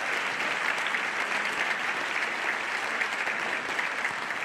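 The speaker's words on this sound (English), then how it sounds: "let's give this group a really good round of applause" An audience at an 8th grade graduation ceremony claps steadily for students, a dense, even wash of applause from a large crowd that holds at one level throughout.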